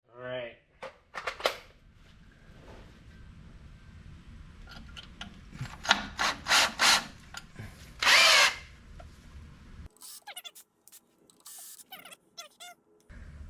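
A power drill bores a hole through metal on a 1980 Ford Courier, coming in several loud, short bursts of whining grind separated by pauses, with quieter clicks and handling noise between them.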